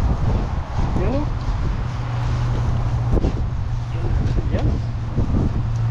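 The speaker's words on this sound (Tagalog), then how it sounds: "Lakas ng hangin." Strong wind roars steadily across the microphone, a continuous rushing noise with occasional voices and clatter underneath.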